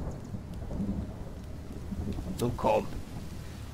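Rain hisses steadily in The Forest video game with a soft rumble beneath it, and a brief crackling burst arrives near the end. A voice speaks briefly under the storm.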